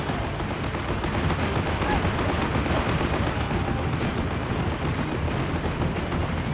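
Machine gun fire sweeps down a town road in the WW2 strategy game Assault Squad 2, a dense, continuous stream of gunfire and battle noise at moderate level throughout, with no clear talk over it.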